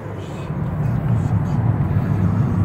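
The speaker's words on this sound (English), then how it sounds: "Car seems to shuffle down the road as you would expect." A 2006 Honda Civic Si with brand new tires cruises down the road on cruise control, a steady low engine and tire rumble heard from inside the cabin, loud and continuous.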